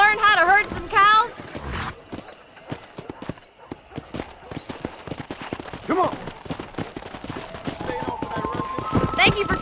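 Horses gallop while herding cows in the Red Dead Redemption video game, with rapid rhythmic hoofbeats close by and brief shouts and voices over the riding.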